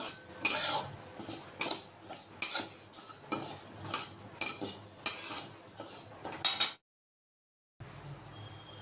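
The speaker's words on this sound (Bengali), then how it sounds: "এখন ডালটাকে শুকনো খোলায় ভালো করে আমি ভেজে নেব।" Mung dal dry roasting in an unoiled pan over low heat, stirred with a metal spatula: repeated close scraping and rattling strokes with soft crackle, in regular bursts, then a short silence and faint rustle.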